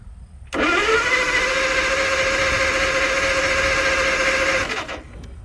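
An old Allis Chalmers engine, choked and being started, turning over with a steady whirring drone of about four seconds that starts abruptly and then cuts off, fairly close, with no voices.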